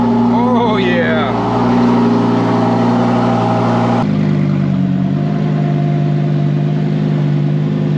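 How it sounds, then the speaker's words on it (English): A Ferrari V10 sports car cold-starts and settles into a loud, close idle, a deep steady engine drone with pulsing harmonics, heard with a window rolled down. "Roll down the window so you can hear that V10"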